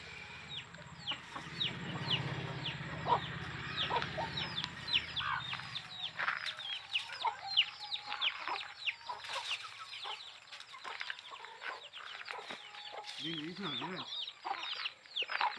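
Young country chickens, one to two months old and kept for sale, cluck and cheep constantly in a yard, with sharp overlapping calls throughout and low voices murmuring in the background.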